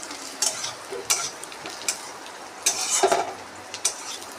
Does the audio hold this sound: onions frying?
yes